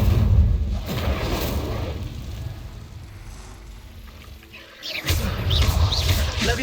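The Incendio fire spell in the Hogwarts Legacy video game sets off deep booming blasts with rumbling, crackling bursts. A loud roar fades over several seconds, then a second heavy boom strikes near the end.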